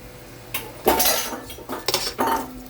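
Sauteed beef with peppers and onions gets stirred in a pan, with several distinct clanks and scrapes of a utensil against metal spaced irregularly, close and clear with no talking.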